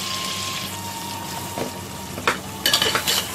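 Mutton frying with onion paste and grated tomatoes, a soft steady sizzle with occasional stirring scrapes and clinks of the spoon growing louder near the end, with no talk.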